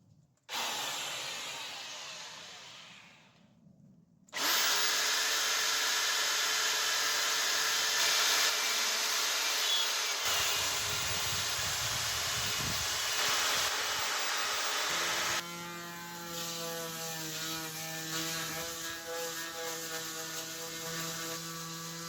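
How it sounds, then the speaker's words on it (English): Black & Decker electric sander working on a bike frame: a loud continuous motor whine that starts after a quieter opening, shifts tone partway through and changes again toward the end, close and without speech. "I realised that I've got a little Black & Decker sander. So basically I did it with all electric."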